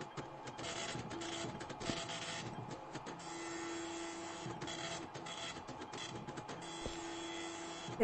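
An office printer runs steadily in the Viscera Cleanup Detail video game, a continuous mechanical whir with rhythmic feeding clicks and clatter at moderate loudness, alone without talking.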